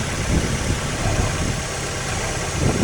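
A 2002 Mazda Miata NB Special Edition engine running steadily at idle, a close, constant rumbling drone with no talking over it.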